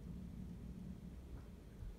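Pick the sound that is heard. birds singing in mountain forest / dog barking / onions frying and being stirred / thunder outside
thunder outside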